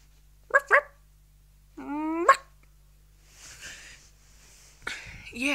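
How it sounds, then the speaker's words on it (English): A dog gives two sharp yips, then a rising whine ending in a bark, followed by quieter breathy snuffles and another short yelp. "I got a dog."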